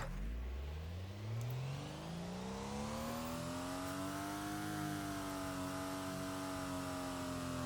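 A simulated race car engine in the Stormworks video game climbs steadily in pitch as it accelerates, a loud, continuous whine heard alone throughout.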